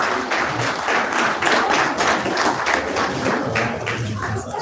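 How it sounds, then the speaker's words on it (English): A school audience applauds at a creativity showcase, a steady wash of many hands clapping close and continuous for several seconds with faint background voices. "Let's give them another round of applause."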